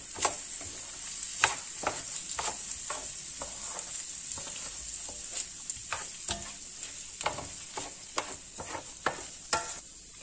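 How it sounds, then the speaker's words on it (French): Rice being stirred back into a paella pan, a steady sizzle of frying with scraping spoon strokes recurring every second or so, close and alone without talk. "Je mélange le tout. Je remets mon riz."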